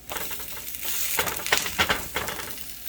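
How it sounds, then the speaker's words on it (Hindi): Baby food frying in ghee in a hot pan gives a close, moderate sizzle, with a few short scraping and tapping bursts as a utensil flips and nudges it. "ये देखो मैंने इस पर घी डाल दिया क्योंकि ये सूख गया था, तो अभी इसे फ्लिप करते हैं।"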